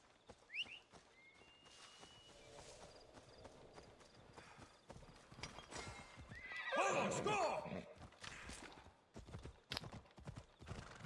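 Hooves clip-clop along at a steady gait, then a loud horse whinny rings out midway, with a little game-like ambience around it, in Assassin's Creed Odyssey.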